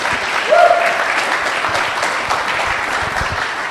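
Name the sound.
audience applause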